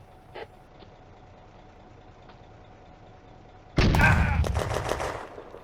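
A burst of heavy gunfire from French troops in a May 1940 firefight at a chateau opens loudly after a quiet stretch, with rapid overlapping shots and cracks that continue in a dense, sustained volley to the end.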